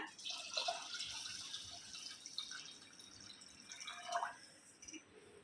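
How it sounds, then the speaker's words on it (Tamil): Water runs and trickles gently into a bowl of rice and lentils soaking in a home kitchen, a faint splashing that swells and fades. "நம்ம தண்ணி ஊற்றி ஊற வச்சுக்கலாம்."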